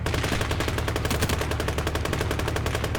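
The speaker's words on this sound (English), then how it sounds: "machine gun" Machine gun fire in the Gates of Hell wartime strategy game rattles in a loud, rapid, continuous burst of closely spaced shots with no pauses.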